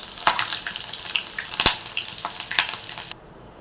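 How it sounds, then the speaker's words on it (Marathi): Slit green chillies with stems frying in hot oil for vada pav, a loud crackling sizzle with bursts of popping that cuts off abruptly near the end. "आता याच तेलामध्ये आपण मिरची तळून घेणार आहोत"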